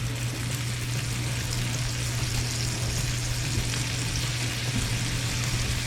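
Ribeye steaks sear in a hot pan with a loud, steady frying crackle that runs unbroken for the whole stretch. A low constant hum sits underneath, and no one speaks.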